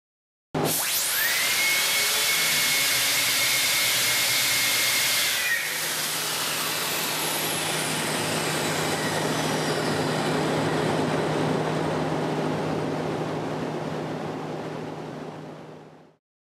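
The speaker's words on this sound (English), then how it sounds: "The pinion gears continue to rotate at high speeds even after the drive air is cut off." Turbine air starters spinning at high speed after the drive air is cut, a loud steady whining roar that drops in pitch and slowly fades as the pinion gears coast down to rest.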